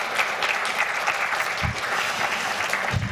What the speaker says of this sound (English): Give it a round of applause for Hayley